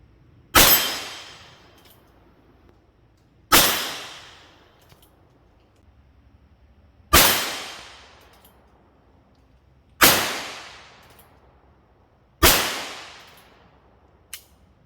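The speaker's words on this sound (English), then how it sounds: "I'll shoot one-handed this time, just for the fun." Five single gunshots from a Heritage Rough Rider revolver fired one-handed, each a sharp loud crack with a fading outdoor echo, spaced about three seconds apart; no one talks.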